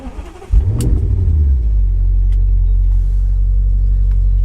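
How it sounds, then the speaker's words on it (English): A car engine cranks briefly, catches with a loud roar, then settles into a steady, low idle close by. "firstly, I'll start the engine"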